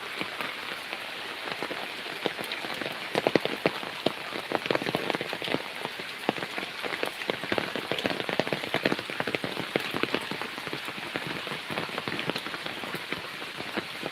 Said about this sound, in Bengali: অনেক বৃষ্টি প্রচুর বৃষ্টি মুসলধারে বৃষ্টি হচ্ছে